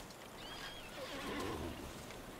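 A horse whinnies in the strategy game Battle for Middle-earth 2, a clear rising neigh with faint hoof clip-clop beneath, moderately loud and without talk.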